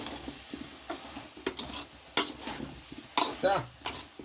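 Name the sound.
lightly stirring soya chunk curry in a pan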